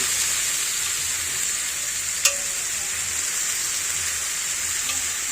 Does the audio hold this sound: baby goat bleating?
no